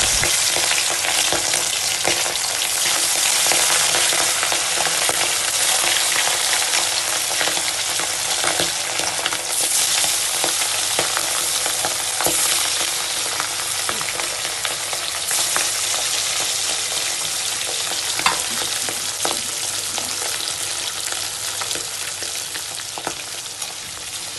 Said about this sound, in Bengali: এদিকে তেলও গরম হয়ে গেছে, একটা একটা করে ভেজে নেব